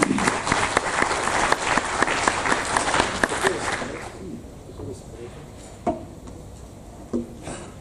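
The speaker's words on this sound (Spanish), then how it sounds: "lo recibimos con voto de aplauso" An audience at an anticorruption academic conference applauds loudly for about four seconds before the clapping fades into scattered claps and room murmur.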